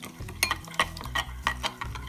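A spoon stirs freeze-dried veal stock into hot water in a bowl, making soft repeated scraping and clinking strokes at close range, with no talk.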